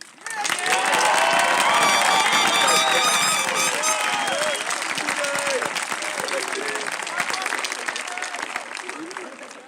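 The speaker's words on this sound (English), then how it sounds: "everyone giving the Holmdel High School class of 2021 a huge round of applause" A crowd at the Holmdel High School class of 2021 graduation ceremony in Holmdel, NJ, erupts in loud, sustained applause and cheering with whoops and shouts. The noise swells at first and then holds strong to the end.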